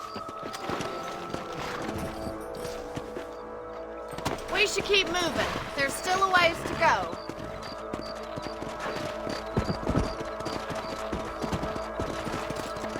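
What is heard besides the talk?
horse hooves clip-clop in video game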